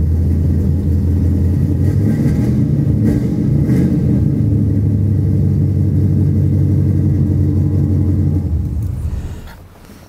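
A 1981 Pontiac Trans Am on a cold start, its engine rumbling loud and close with a steady idle and some revving, before the sound drops away near the end.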